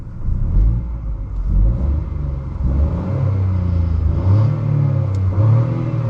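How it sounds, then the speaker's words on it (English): A 2024 BMW 118i with stock exhaust revs repeatedly, the exhaust rising and falling in a deep, throaty drone, close and loud. "Have a listen to the exhaust note of this car when it's stock."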